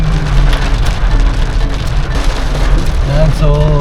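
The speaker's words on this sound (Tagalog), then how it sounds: "Inabot na tayo ng malakas na ulan." Heavy rain pours steadily onto surfaces along a highway in Batangas, a dense, loud, continuous hiss with faint traffic underneath and no speech.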